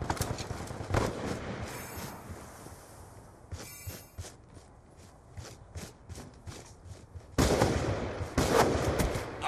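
Video game gunfire aimed at an enemy, scattered bursts of rapid shots with a louder dense burst near the end, over a rumbling background.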